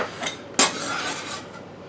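A whole jalapeño drops into a metal pot of spareribs with a single clear clink, then utensils scrape and rattle against the pot in soft, close stirring.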